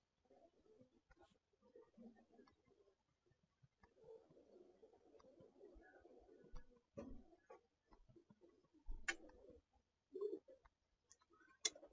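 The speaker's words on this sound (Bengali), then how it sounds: "কয়টা কবুতর ডাকো আছে কোনটা আমার দেখাও।" Pigeons coo softly in a large loft of some 230 birds, low muffled calls coming in short bursts among scattered clicks and taps in an otherwise quiet space.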